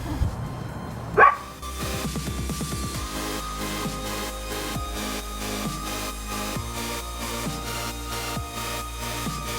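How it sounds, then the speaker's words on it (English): Dogs bark again and again in a steady rhythm, fairly close, with a low background drone and no talking. "Dogs are barking."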